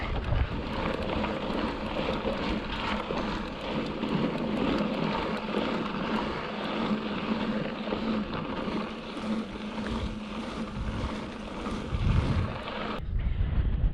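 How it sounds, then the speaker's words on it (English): Chilly wind gusts steadily across a high canyon overlook above Pole Canyon, a continuous close rushing roar of wind buffeting the microphone that drops off sharply near the end. "That wind's a little chilly."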